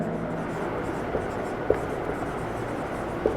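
Pen writing a maths formula by hand on paper, a soft continuous scratch under a voice speaking, with a few small taps as strokes land.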